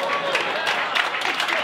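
An audience at the Laugh Factory comedy club in Hollywood breaks into applause and cheering during a stand-up set, a steady wash of many hands clapping with scattered crowd noise.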